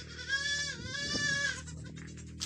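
Goat bleating on a dairy goat farm, a long, loud wavering bleat close by with a shorter call trailing at the end, over quiet farm background.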